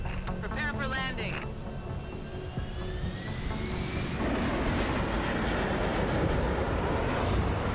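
An aircraft comes in to land, its steady engine roar rising to a fuller, louder rush partway through.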